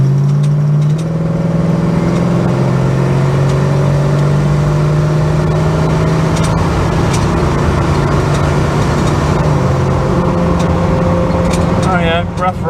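A Holden HK car's engine drones steadily throughout a rough, rugged country road drive, with occasional bumps and rattles toward the end.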